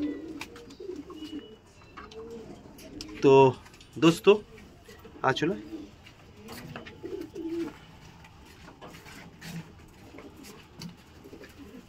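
Pigeons at a pigeon shelter coo softly in low, rounded bursts, with a few louder calls close by, under and between a man's speech.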